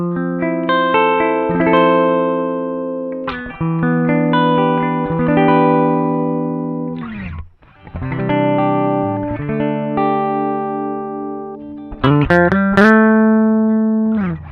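A clean electric guitar, a 335 on its middle pickup setting, plays sustained chords and single notes through a bypassed Fulltone OCD pedal with little coloration, ringing out with slight reverb and a short gap midway.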